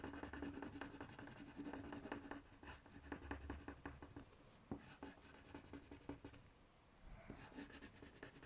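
A colour pencil scratches across paper while someone draws a beetle, making close, continuous rasping strokes with quick back-and-forth shading rhythms and a brief pause partway through.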